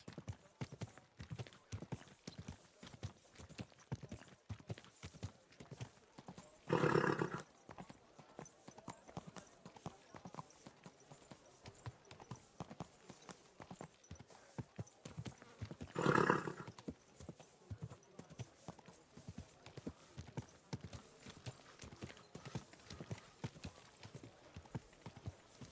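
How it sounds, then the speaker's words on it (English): Galloping horse in Kingdom Come: Deliverance 2, continuous rhythmic hoofbeats at a fast pace, broken by two brief loud snorting bursts partway through. "Easy, good horse."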